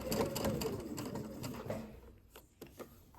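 Sewing machine stitching one piece of fabric into a bread bag, a steady close mechanical whir with rhythmic needle clatter for about two seconds, then slowing and stopping into a few isolated clicks.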